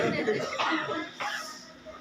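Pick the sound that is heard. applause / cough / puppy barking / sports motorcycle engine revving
cough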